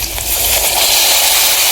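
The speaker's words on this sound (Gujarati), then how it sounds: "હવે નાખી દેવી આપણે પાણી." Water is poured into a pan of spiced stuffed potato curry, producing a loud, continuous broadband rush and splash that holds steady without pause.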